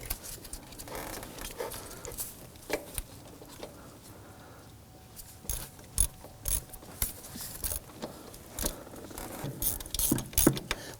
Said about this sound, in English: I can go ahead and put my ratchet on there.